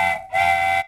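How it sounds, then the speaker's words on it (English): A train whistle sound effect plays in two steady tonal blasts, a short one followed by a longer one, loud and clear with no talking. "So there's a train whistle sound."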